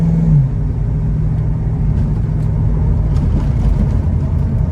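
A 1995 Ford Mustang GT 5.0 rolls over a bumpy road, its engine giving a steady low rumble and road drone from close inside the cabin, with no talk.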